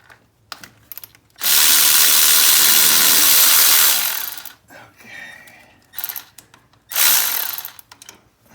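Power tool loosening radiator hose clamps on a Prius during head gasket work: a long steady drill whine for about three seconds, a few short ratcheting bursts, then another sustained burst, close and loud.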